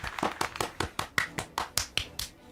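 A round of applause in Umamusume: Pretty Derby: about a dozen sharp, evenly spaced claps in a steady rhythm, close and clear, with no talk over them.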